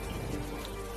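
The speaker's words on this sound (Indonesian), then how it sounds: "Singkat cerita, hujan pun tiba." Steady rain pours down in a film scene, a dense, even hiss of falling drops that continues without a break through the short moment, loud and close with no voices.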